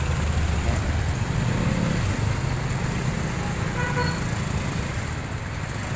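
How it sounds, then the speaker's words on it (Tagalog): Busy street traffic rumbles steadily up close, with a few short car horn toots rising through the engine noise in the middle. "Traffic."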